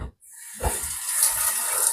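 Two to two and a half cups of water pour into a vessel for a homemade ginger herbal tea, a short hissing, splashing stream that starts after a brief pause and runs steadily to the end.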